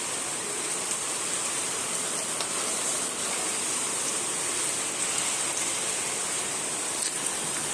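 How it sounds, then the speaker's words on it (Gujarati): Rain begins to fall outdoors as a steady, quiet hiss that stays even throughout, with no voices. "અને વરસાદ સ્ટાર્ટ થયો."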